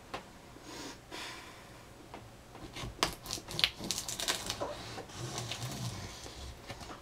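Packing tape on a boxed 27-inch iMac is pierced and torn open with a pencil, giving a run of close scratching, crinkling and sharp tearing bursts that grow busier in the second half.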